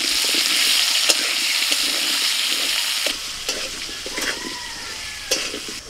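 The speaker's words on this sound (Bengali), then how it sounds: "সর্ষের তেল, তেল গরম হয়ে গেছে, মাংসের আলুগুলো ভেজে নেব।" Potatoes fry in hot mustard oil for a mutton dish, giving a steady close sizzle with scattered sharp clicks and scrapes of stirring that ease slightly toward the end.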